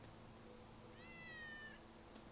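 A cat in the Tales of Xillia 2 video game gives a single drawn-out meow of about a second, clear but fairly quiet above a steady low background hum.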